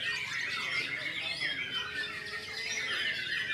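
A bird calls with high chirps and squawks over a steady outdoor background, fairly close and moderately loud throughout.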